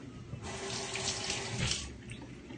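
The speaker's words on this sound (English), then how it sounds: "I need to rinse the lid as well" Kitchen tap water running over a plastic spiralizer lid during rinsing, a close steady gush with spatter that starts after a moment and tapers off near the end, no voices.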